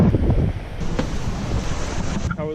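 Ocean surf rolling in at Pacific Beach, a steady wash of waves mixed with strong wind buffeting the microphone, continuous and close, with no talking.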